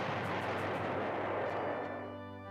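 Aircraft strafing attack in the PlayStation strategy game Panzer General, a dense, loud continuous roar of rapid gunfire and blasts lasting throughout, tapering slightly at the end with no talking.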